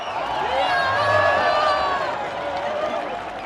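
A huge crowd at the Berlin Wall in 1989 surges and shouts, many voices blending into a loud, sustained roar that swells around the middle and stays dense throughout.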